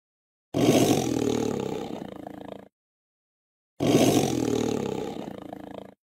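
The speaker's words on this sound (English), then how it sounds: "Tiger," Two loud, deep tiger roars, each lasting about two seconds and separated by a short silence.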